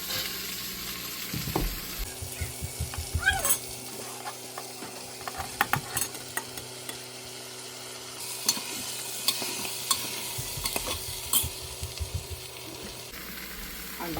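A spoon stirs lentils, vegetables and onion frying in a pan for sambhar, giving soft scraping strokes and intermittent clatter over a low, steady sizzle, fairly quiet and close.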